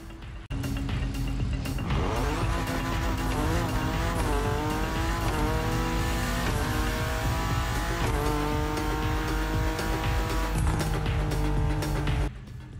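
A BMW M4 in the Motorfest racing video game revs hard through several rising gear pulls with continuous tire squeal, loud and steady for about twelve seconds without talking.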